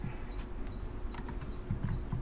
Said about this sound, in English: if we type the AZ command